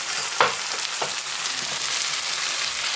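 Steady, dense sizzling of frying onion in a pan, with a couple of soft clunks as canned tomatoes are dropped in and stirred.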